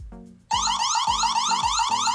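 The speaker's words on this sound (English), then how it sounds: "here we'll give a quick example of what the Siren sounds like on here" Wyze Cam Pan v2 security camera siren blares loud and close after half a second of quiet, a repeating electronic alarm pattern of warbling tones cycling about every half second.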